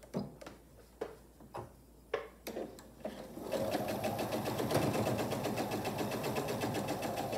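A sewing machine stitches a holiday placemat with a 1/4 inch seam allowance. A few soft handling knocks come first, then a steady, close, rapid mechanical whirr of stitching runs to the end.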